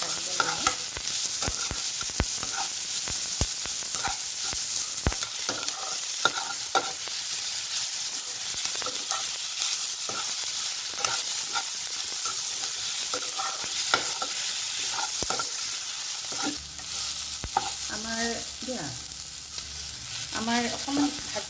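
Rice frying and being stirred in a pan, with a steady sizzle and repeated scraping stirs throughout, close and fairly loud.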